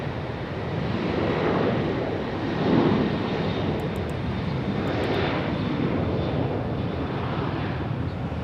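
A steady, broad roar of Boeing 777 airliner engines at Raleigh-Durham International Airport, loud and continuous, swelling slightly midway with a windy rush over the top.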